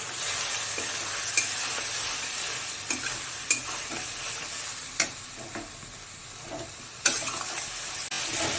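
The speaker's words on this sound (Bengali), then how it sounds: "মশলাটাকে একটু ভালো করে কষিয়ে নেব।" Spice masala with chilli powder and a little water frying in a pan for a prawn and taro curry, a constant sizzle punctuated by sharp spoon taps and scrapes against the pan.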